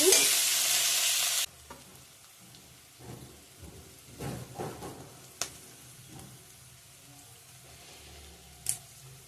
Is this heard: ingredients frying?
yes